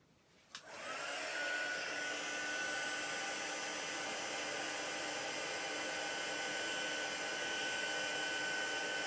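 A heat tool clicks on and then blows with a steady, close whirring roar while drying a watercolour card, with no one talking over it.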